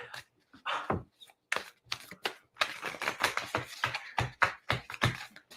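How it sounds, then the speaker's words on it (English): Tarot cards are shuffled close by in quick irregular bursts of riffling and tapping, a rapid flurry of crisp slaps and rustles with brief pauses between, no talk. "I can't break that habit of shuffling like that."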